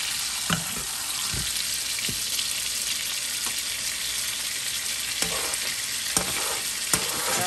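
Steaks pan-frying in a hot pan while being flipped and basted, loud continuous sizzling with several sharp clatters and scrapes of utensils as the meat is turned.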